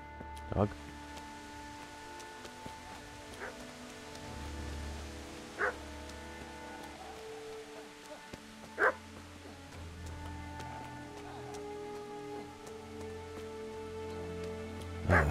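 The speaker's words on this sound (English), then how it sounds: "Dog." A dog barks in Kingdom Come: Deliverance, a few short, sharp yelps spaced apart over a steady game ambience with rain-like patter and low music tones, while a person talks at times.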